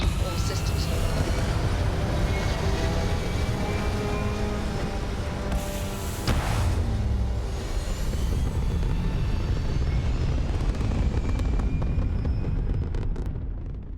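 Spaceship lifting off in the video game Starfield, a loud, continuous roaring rumble of engines that swells and holds with a sharp burst partway through.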